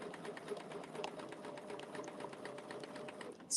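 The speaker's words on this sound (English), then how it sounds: "I'm going to do my 4 tiny stitches and then just start stitching around." A sewing machine runs steadily at a quilting or craft project, stitching in a fast, even rhythm of close needle strokes that continues without a break and stops abruptly at the end.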